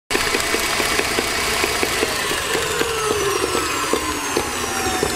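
An electric mixer beats a butter mixture for tea rusks with a steady motor whir and regular rhythmic knocks of beaters against the bowl, close and continuous, with no talking.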